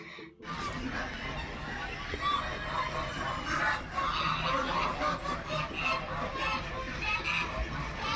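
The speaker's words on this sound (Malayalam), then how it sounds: "കുറേ താറാവുണ്ട് താറാവും അരയന്നൊക്കെ ഒരുമിച്ചിട്ടായിട്ടുള്ളത്" A flock of ducks and swans at a farm house honks and quacks in a busy overlapping chorus that runs throughout, with people talking in the background.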